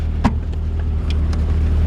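A 1980 Fiat 2000 Spider engine idling steadily, a low, even rumble with a brief click near the start and a few faint knocks over the drone.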